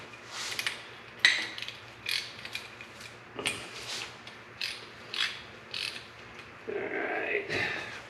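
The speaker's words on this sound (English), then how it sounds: "There's 5/8 bolts holding the tail shaft on, so let's break them loose here." Hand ratchet breaking loose and turning the 5/8 bolts that hold a tail shaft on, while a speedometer drive gear is being replaced. It gives a series of close, crisp clicking bursts in an irregular rhythm, with short pauses between them.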